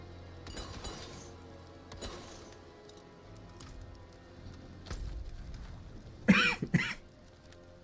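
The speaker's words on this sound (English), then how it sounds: "you're gonna have to excuse the coughing" A person coughs and clears their throat in bursts, with loud harsh coughs near the end standing out over steady background game noise.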